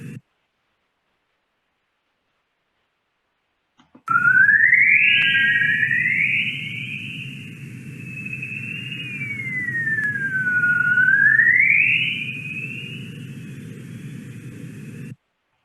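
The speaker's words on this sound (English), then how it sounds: "This is the sound of Earth's electromagnetic field bouncing off of itself, interfering with itself." Whistler-mode waves of Earth's electromagnetic field, eerie sweeping tones gliding up and down over a steady hiss and low rumble, continuous and loud after a silent start.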